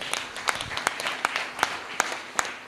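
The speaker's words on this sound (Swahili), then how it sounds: "Tumpigie makofi mazuri sana." Applause for a pastor at a church prayer vigil, sounding as regular, fairly faint hand claps in an even rhythm, more like a few people clapping than a large ovation.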